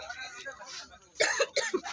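Several short, sharp coughs in a quick burst near the end, heard up close after a stretch of quieter background noise at a birthday gathering.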